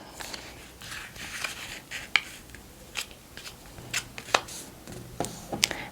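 A sheet of paper being folded along a marked line for a paper cross, a series of soft close crinkles, creases and sharp paper snaps in irregular bursts, with no talk.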